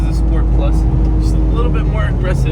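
A turbocharged Ford Mustang EcoBoost engine drones loudly and steadily as it accelerates, with a deep, continuous rumble and higher whooshing tones layered on top.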